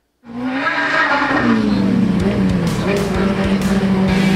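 A legend race car starts up and drives on a dirt track, its engine a loud steady drone that rises in pitch, with a voice talking over it.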